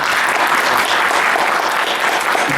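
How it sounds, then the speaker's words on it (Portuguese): Loud, dense applause from a seminar audience at an international culture seminar in Mogi das Cruzes, a continuous close wash of many clapping hands, sustained evenly from start to finish with no talking. "queria pedir uma salva de palmas para o Alexandre"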